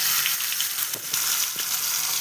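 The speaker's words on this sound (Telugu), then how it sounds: "తర్వాత చేప ఒక్కొక్కటిగా వేసి ఫ్రై చేసుకొని" Fish pieces frying in a pan of hot oil, a steady close sizzle and crackle running throughout with a few brief pops and stirring clinks, no talking.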